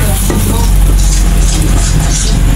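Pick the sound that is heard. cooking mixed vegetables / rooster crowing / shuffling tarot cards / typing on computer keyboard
cooking mixed vegetables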